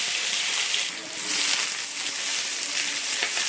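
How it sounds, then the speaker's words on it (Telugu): Onions fry in oil with cumin, mustard seeds and dried red chilli for a cabbage and chana dal fry, giving a loud, dense, continuous sizzle close up with no pause. "ఇప్పుడు ఆనియన్స్ ఫ్రై అయినాయి"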